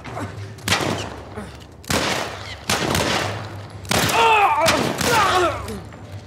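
Gunfire in The Last of Us video game comes as several sharp, loud shots a second or so apart, close and punchy, with a brief warbling cry mixed in after the later shots.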